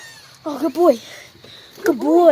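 An elderly house cat meowing, with two drawn-out, rising and falling meows close by, while a person speaks softly between and over them.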